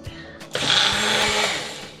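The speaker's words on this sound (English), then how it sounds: "So you got all those ingredients into your blender. Now we blend." Kitchen blender whirring as it purees Thai salad dressing ingredients with sesame oil, starting after a few short knocks and then running as a loud steady whine.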